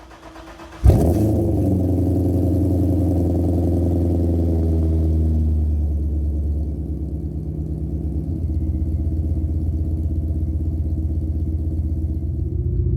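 A 2006 car with a VARARAM VR-B2 intake cold starts with a sharp crank and catch, then settles into a loud, steady idle that eases slightly lower after several seconds.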